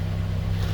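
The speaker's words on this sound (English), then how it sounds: "All right, so that's the stock exhaust there." A Mazda Miata NC on its stock exhaust idles with a steady low, throaty drone, close and continuous with no talk over it.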